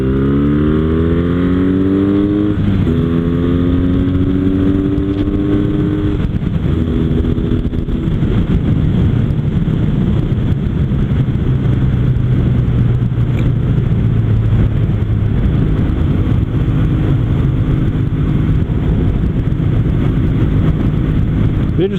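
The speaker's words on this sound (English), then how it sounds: "Interesting to see how good the induction sound comes through the video." A Kawasaki W800 cafe racer with the airbox replaced by pod filters gives a loud, continuous induction roar and engine drone while riding, with the pitch rising and falling through acceleration and gear changes.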